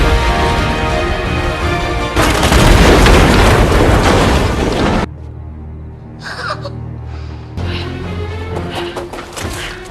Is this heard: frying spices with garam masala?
no